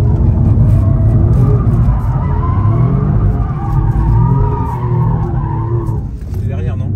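Car drifting on a road, sustained tyre squeal and skidding with the engine revving throughout, loud and close, while people talk over it.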